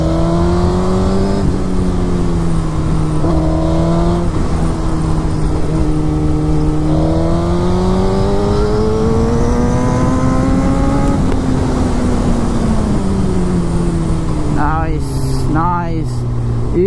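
A Suzuki GSX-R 1000 superbike revs hard and holds high rpm close to the microphone, its engine note rising and falling, then a burst of sharp backfire pops near the end, with a voice talking over it.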